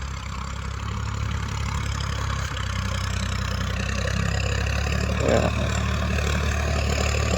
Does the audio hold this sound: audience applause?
no